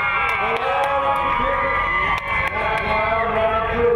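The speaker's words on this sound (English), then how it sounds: "They're up there in the stands, cheering you on the whole way." A crowd cheers and whoops from the stands at a BCRA midget car race at Madera Speedway, a loud continuous roar with an announcer talking over it.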